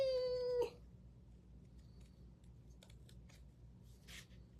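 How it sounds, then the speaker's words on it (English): Scissors cut ChalkSuede paper in a few soft, scattered snips and rustles, quiet and close, following a loud cat meow at the start. "Y'all just love watching me cut?"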